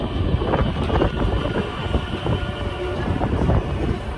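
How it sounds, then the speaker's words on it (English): A city metro commuter train runs past outdoors with a loud, steady rumble and rolling rail noise, heard close with some wind buffeting the microphone. "the one you see coming is the metro that runs right across the city"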